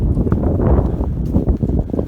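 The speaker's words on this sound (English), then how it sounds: "it's so windy" Loud, low buffeting wind noise on the microphone, a continuous rumble with irregular gusty bursts throughout.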